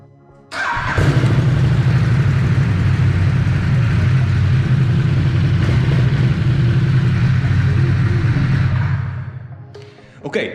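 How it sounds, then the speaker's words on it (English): A 2018 Ducati SuperSport S motorcycle engine fires up and settles into a loud, steady idle with a deep rumble, running close by for several seconds before dropping off. "I am very happy the motorcycle starts"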